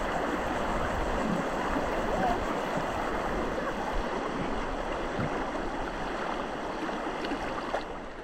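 River rapids rush through a forest near La Danta, Antioquia, a constant broadband roar of churning water, close and steady, with no breaks.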